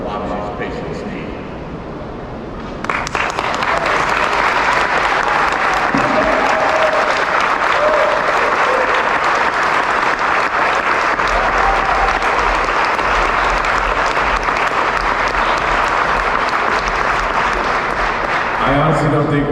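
After a quieter opening, a crowd at the 2021 St. Louis Shave to Save event bursts into loud, continuous clapping that carries on to the end, with faint voices mixed in.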